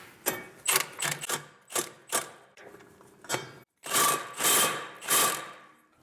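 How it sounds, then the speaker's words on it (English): Impact wrench tightening the clutch bolt on a CF Moto U10 Pro, a series of loud close hammering bursts, several short rattling hits followed by longer sustained ones after a brief pause. "I'm just going to use an impact and tighten it back up"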